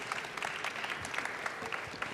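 Conference audience clapping in a hall, a short burst of scattered claps, moderately loud and continuous for about two seconds.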